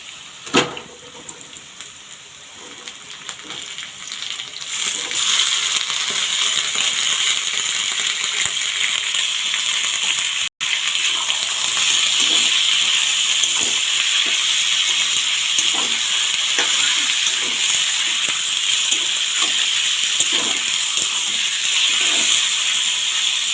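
Washed chicken pieces go into a hot pan: a few faint clatters, then a loud, continuous hissing sizzle that holds steady to the end, broken only by one brief dropout.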